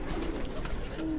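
Firozpuri pigeons coo on a rooftop, a short, close, low throaty burbling call.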